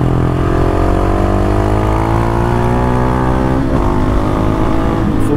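A Husqvarna 701 single-cylinder motorcycle engine pulls hard while riding, its loud, close drone climbing steadily in pitch through a gear before a quick shift near the end, with no one speaking.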